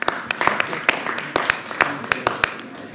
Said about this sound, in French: Merci, on peut t'applaudir.